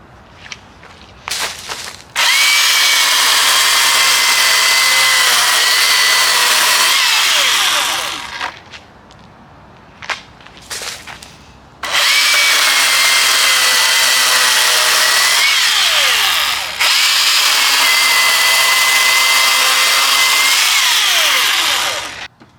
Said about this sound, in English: Let's cut some wood and make sure it's on there right.